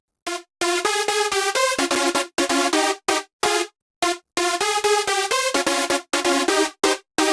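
A layered synth lead for a big-room drop plays bright, harmonically rich chord stabs in a bouncy rhythm, loud and alone, with short staccato hits between sustained runs and a few clean gaps.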